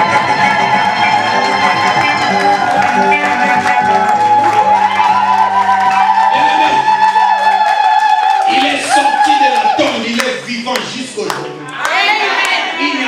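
Evangelical church congregation at a midnight service clapping and cheering in acclaim, with loud sustained music and voices throughout and bursts of applause and shouts near the end.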